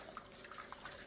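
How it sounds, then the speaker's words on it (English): Royal Copenhagen china being washed in water, with soft sloshing and light trickling of water against the dishes close by, quiet and with no voices. "So washing the Royal Copenhagen china."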